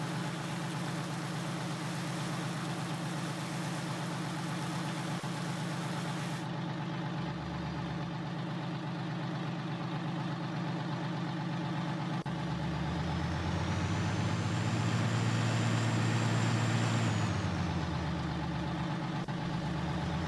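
A tractor engine in the Farming Simulator 19 video game runs continuously with a steady low rumble and droning harmonics, swelling louder in the middle as the revs rise, then settling back; no voices.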